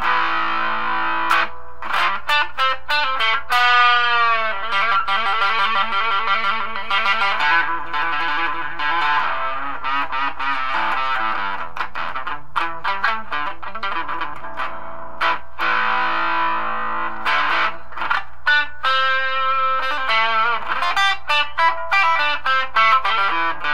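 Distorted electric guitar plays a run of notes and sustained chords, loud and fuzzy, with no talking.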